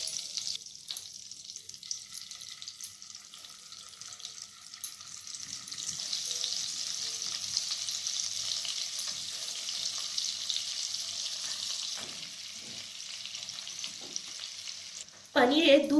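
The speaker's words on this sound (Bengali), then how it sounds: "এরপর পনিরগুলোকে অল্প আঁচে হালকা করে ভেজে নেব।" Paneer cubes frying on low heat in white oil and butter in a wok, a steady close sizzle that grows louder midway and holds, with a brief clatter at the very end.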